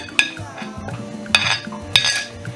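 Garden egg and mushrooms go into a pot of fish and vegetable soup, giving three sharp metallic clanks of utensil against pot amid softer stirring and knocking, close by and without talk.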